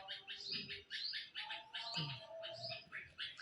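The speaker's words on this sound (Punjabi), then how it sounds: "ਚਿੜੀਆਂ ਦੀ ਚੀਚੀ ਬੜੀ ਸੋਹਣੀ ਸੁਬਾਹ ਮਾਰਨਿੰਗ ਟਾਈਮ ਬਹੁਤ ਸੋਹਣੀ ਲੱਗਦੀ ਹੈ" Sparrows chirp busily in the morning in a dense, overlapping chorus of quick, bright tweets, close by and continuous throughout.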